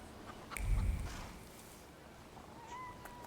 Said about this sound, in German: Wo maut's denn hier eine Katze?